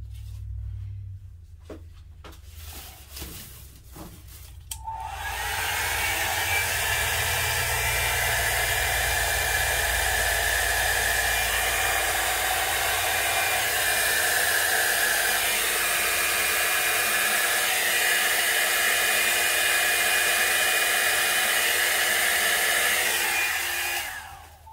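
Electric blower used on wet acrylic pour paint with cell activator and Phthalo Blue, starting after a few seconds of faint clatter and then roaring as a steady, loud, continuous airy rush until it cuts off at the end.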